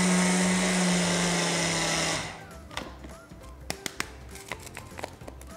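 An electric grinder whirs loudly and steadily as it grinds poppy seeds mixed with sugar. After about two seconds it winds down and stops, leaving light clattering and tapping of the container.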